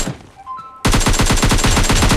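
Automatic gunfire from an Uzi and an M16A4 in a mobile shooter game: a brief lull, then a sudden loud, rapid burst of shots in a tight, steady rhythm, close and continuous.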